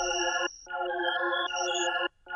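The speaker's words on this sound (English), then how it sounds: "this is what it sounds like without the effects." A melodic one-shot pattern programmed in FL Studio and played dry without effects: bright sustained synth chords in three close phrases separated by short gaps, with no talk.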